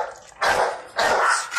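A pit bull barks twice, close by, with a short pause between the loud barks.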